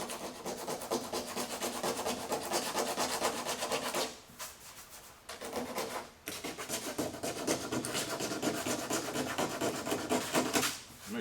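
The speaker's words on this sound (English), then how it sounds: "So I'm just gonna sand these because I just loosened the paint up." Coarse 40 grit sandpaper scrubbing loosened paint on a 1976 Pontiac Trans Am SE, a steady close rasping rub in long continuous passes with two brief pauses.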